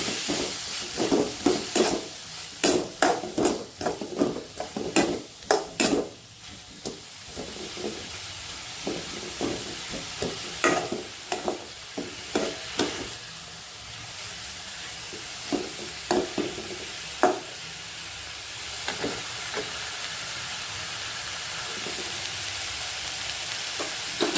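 Filling for potato masala bonda sautés in a pan with a continuous sizzle, broken by a rapid run of spatula scrapes and taps that thin out into steady frying.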